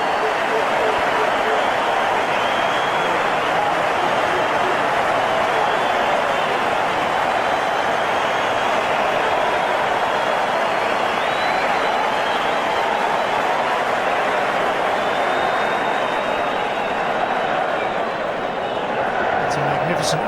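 A large cricket stadium crowd during a one-day international between India and Australia in Brisbane, a dense continuous roar of applause and cheering that stays loud and unbroken throughout, with commentary voices running over it.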